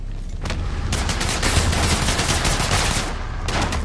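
Dense gunfire from Apex Legends Mobile, with rapid bursts of automatic weapon shots stacking into a loud, continuous fusillade that runs almost the whole time, close and intense, with no talking.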